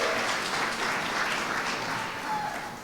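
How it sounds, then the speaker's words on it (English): Applause for students at a school district scholars reception, a steady wash of many hands clapping at moderate volume that tapers slightly at the end. "That deserves a round of applause."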